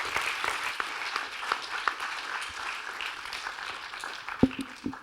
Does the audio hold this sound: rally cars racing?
no